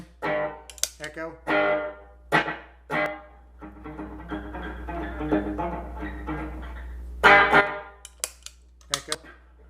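An echo effect pedal on a newly wired pedalboard processes guitar notes, with short plucked phrases giving way to a sustained, repeating wash of trailing echoes before crisp picking returns, close and fairly loud.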